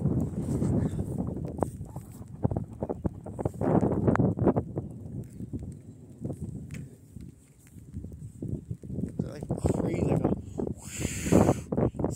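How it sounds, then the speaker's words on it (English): Gusty wind buffets and rumbles in uneven surges, rising and falling in strength, with rustling and a brief harsher gust near the end. "you can hear the wind going"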